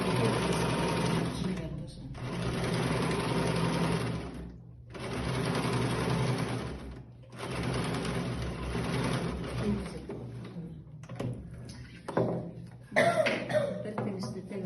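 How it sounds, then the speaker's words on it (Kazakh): Sewing machine stitching a seam during tuck and ruffle work at a college sewing class, running in several long steady bursts separated by short pauses, with coughs and other sounds near the end. "Бір тігісті тігіп алдым."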